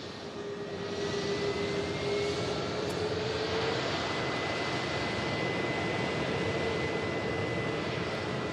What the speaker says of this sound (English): This KLM arriving in from Amsterdam.